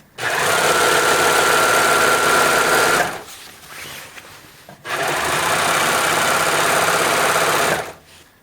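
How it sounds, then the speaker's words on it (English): A serger sewing machine running a 4-thread overlock stitch through fabric while making protective equipment: two loud, steady whirring runs of about three seconds each, separated by a short quiet pause, with no talking. "Here I'm using the serger with a 4-thread overlock."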